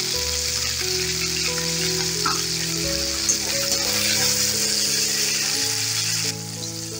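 Green beans sizzling steadily in hot oil in a pan while being stirred, a loud continuous fry with clinks of stirring, close up and without talk.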